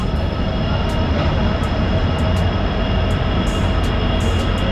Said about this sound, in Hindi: दोस्तों ये है न्यू हाफलॉन्ग स्टेशन।